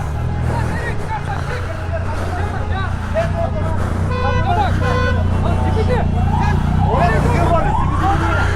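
An ambulance siren wails, rising and falling through steady traffic noise, with a crowd murmuring and voices nearby.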